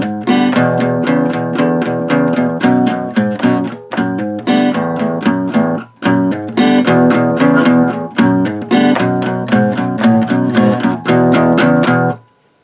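Guitar plays the chorus of a song without palm muting: steady, driving open strummed chords in a quick even rhythm, loud and close, with one brief break midway and a stop at the end.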